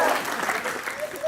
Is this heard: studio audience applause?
yes